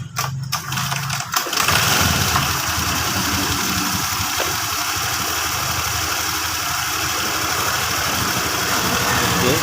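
A Honda Vario 125 scooter with a hesitating, stuttering engine and a weak battery cranks briefly and catches. It then settles into a steady, close idle that holds evenly to the end.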